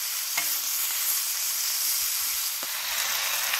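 Paella simmering in a wide pan over a wood fire, a steady broad sizzle and bubbling throughout with a few faint clicks of stirring, close and even.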